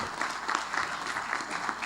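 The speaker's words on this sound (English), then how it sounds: "Can we have a round of applause for him, for her, for everyone who shared?" Steady applause from a youth summit audience, a dense wash of many hands clapping at moderate volume with a faint murmur of voices underneath.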